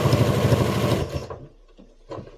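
Sewing machine stitching binding onto a quilt, a loud close rapid mechanical whir that runs for about a second and then stops, leaving near silence with a faint knock.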